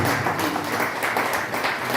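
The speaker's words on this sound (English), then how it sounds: "Let's offer him a clap offering." Audience applause at an academic lecture event, a steady wash of many hands clapping that fills the whole moment at moderate loudness with no speech over it.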